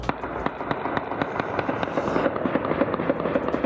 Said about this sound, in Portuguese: Durante a ação, eles fizeram dezenas de disparos para o alto.